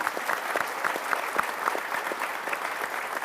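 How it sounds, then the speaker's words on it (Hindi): An audience applauds in honour of Indian army heroes, a moderately loud crowd clapping with distinct individual claps standing out in a brisk, uneven rhythm that stays steady throughout. "आप लोगों की तरफ से तालियां चाहूंगी"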